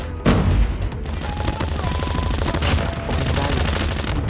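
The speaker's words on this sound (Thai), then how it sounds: "ยิงกันกระจายให้ตายเถอะ" Rapid automatic gunfire from an AK117 assault rifle in the Call of Duty Mobile shooter, with dense overlapping bursts on a small map that continue loudly throughout, while a voice speaks briefly underneath.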